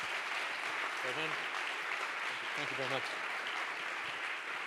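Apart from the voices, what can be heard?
audience applause for a speaker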